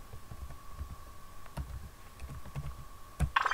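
A command is typed on a computer keyboard, scattered light clicks of keys close by with a steady faint hum underneath, and a sharper click burst at the end.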